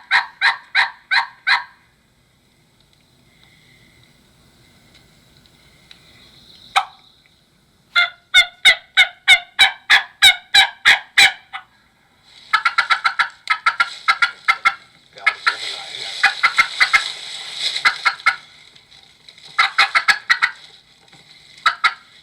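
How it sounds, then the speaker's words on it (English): Wild turkeys in the early season, with bursts of rapid loud sharp yelping calls in quick sequences, alternating with quiet gaps and some fainter calling in the background. "every time those turkeys gobble"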